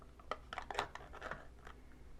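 Scissors snipping during a chalk paste craft session: a quick run of crisp, close cutting snips and scratchy rustles lasting about two seconds, with no voices.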